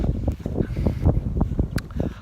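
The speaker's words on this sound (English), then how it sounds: "Here comes a gust of wind" Gusty wind buffets an outdoor microphone in low, rumbling bursts, loud and close, with no talk over it.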